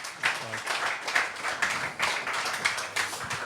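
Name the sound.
audience applause for Hollaphonic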